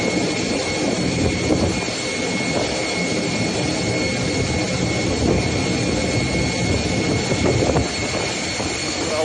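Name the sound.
planes moving on flooded Dubai International Airport tarmac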